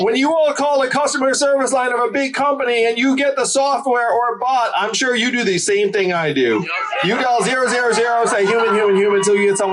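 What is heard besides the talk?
No distinct noise like a dog, phone or traffic.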